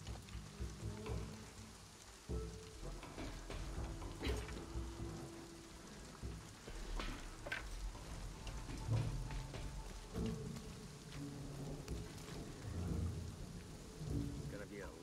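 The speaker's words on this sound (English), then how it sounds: "This storm is coming in quick." Steady rain pours with rolling thunder rumbling through a stormy night in the video game Shadow of the Tomb Raider, a continuous dense wash broken by several deeper low booms.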